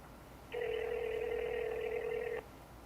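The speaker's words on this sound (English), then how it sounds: "It's just ringing." A telephone ringback tone on a call to the sender of an unmarked package: one steady electronic ring lasting about two seconds, clear and close, with no talk during it.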